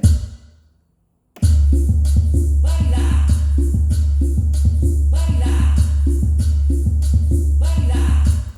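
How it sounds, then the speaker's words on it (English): A DJ's four-beat loop on a loud dance track, a steady thumping kick repeating a short four-beat section over and over, starting after a brief silence. "I'm going to do a 4-beat loop, and it's going to sound like this."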